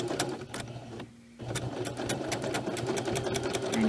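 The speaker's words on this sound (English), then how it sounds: "And you just start sewing all the way around. See how you can sew right over those pins." A sewing machine stitches the seam of a fabric mermaid tail, running straight over pins with a steady fast mechanical whir, briefly pausing before it resumes, close and continuous.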